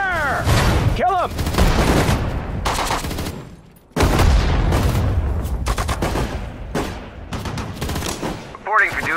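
Heavy infantry gunfire in the WWII strategy game Sudden Strike 4, with dense rifle and machine-gun fusillades rattling almost continuously, one brief pause, and shouted voice lines over the shooting.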